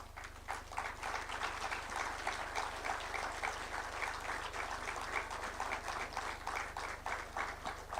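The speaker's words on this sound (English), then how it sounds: "just rise so that we can give them an applause and acknowledgement" A symposium audience applauds diplomats and ambassadors as they rise, a sustained, fairly even patter of many hands clapping at a moderate distance over a low steady electrical hum.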